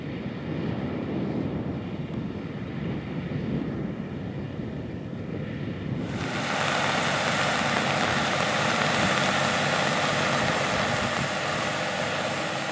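A 470-horsepower Case IH 470 RowTrac tractor engine drones steadily in a field, low and rumbling, then grows louder and brighter as it revs up partway through, with wind buffeting the microphone.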